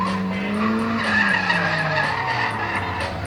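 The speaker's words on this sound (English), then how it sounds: "Back out with the drift car" A drift car at the Santa Pod drag-racing venue skids through a sustained slide, its engine note rising and falling beneath broad, continuous tyre noise, loud and close for the whole stretch.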